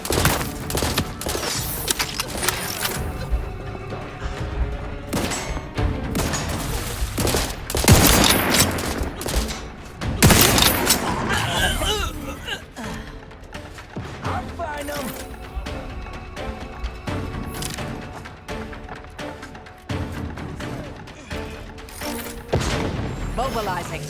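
Companions in The Outer Worlds 2 lay down heavy gunfire, with loud sustained bursts and booming shots across the whole stretch, while voices speak over the combat.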